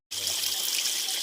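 Water trickling out of a rock crevice in a small tribal hill village, a steady splashing flow that starts abruptly and holds constant, close by and fairly loud, with no talking.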